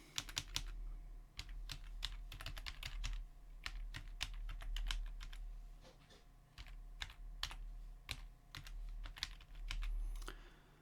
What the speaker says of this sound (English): I'll type it in.